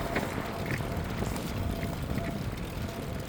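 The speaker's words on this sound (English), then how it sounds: "It's windy" Wind buffets the microphone during a bike ride along a smooth bike path, a steady low rumble with rushing broadband noise running unbroken and fairly loud throughout, with no speech.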